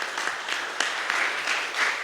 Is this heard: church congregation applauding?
yes